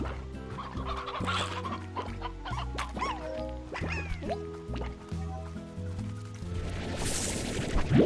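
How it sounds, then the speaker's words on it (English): Chickens in the video game Slime Rancher cluck in quick bursts over steady game background music, with scattered splashy effects and a brighter whoosh near the end. "He says as he throws like 7 chickens to the slaughter."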